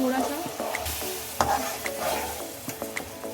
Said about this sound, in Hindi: अब इसमें हम चाशनी डालेंगे, थोड़ा थोड़ा डालेंगे